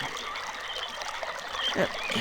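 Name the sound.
flowing water in the video game RealMyst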